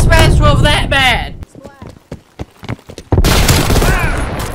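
SPAS-12 shotgun firing in Call of Duty Black Ops Cold War, a quick series of sharp reports between bursts of loud talking, with the shots standing out in a brief quieter gap.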